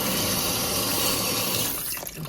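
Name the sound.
tap water running to fill a bowl for washing mussels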